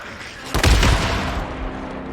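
A single heavy grenade blast from the video game Days Gone booms close and loud, then rumbles away into a fading low tail.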